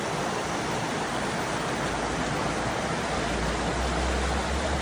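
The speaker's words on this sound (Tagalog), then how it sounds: "Grabe talaga yung tunog ng tubig, nakaka-relax" Water rushes in a steady, dense hiss, a stream flowing nearby in New Zealand, unbroken and even throughout.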